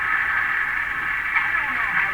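A Hammarlund HQ-180 radio receiver puts out a steady hiss and noisy tone concentrated in a band, its character shifting slightly as the volume control is turned, heard alone without voices.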